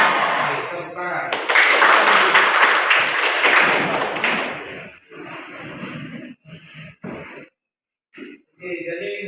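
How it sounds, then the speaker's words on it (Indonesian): A classroom group of students claps together in a dense burst lasting about three seconds during a morning teacher-training coaching session, then breaks into scattered voices and chatter. "Baik, tepuk tangan."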